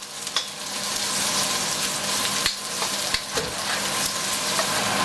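Thinly sliced half onion sautéing in a pan, a loud continuous sizzle close to the mic with a few sharp spoon scrapes and taps over it, no voices.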